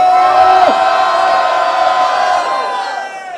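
Loud crowd at a street rap battle in Rocinha, cheering, whooping and shouting in a dense sustained roar that swells between rounds, with voices yelling throughout.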